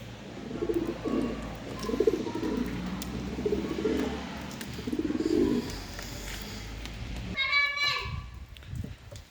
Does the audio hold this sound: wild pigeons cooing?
yes